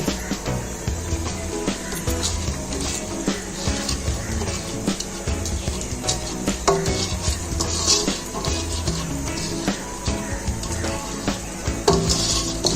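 Rice being stirred and mixed into a pot of vegetable pulao made from leftover curry, with steady scraping and clinking of a spoon against the pot and a soft sizzle underneath, continuous and close.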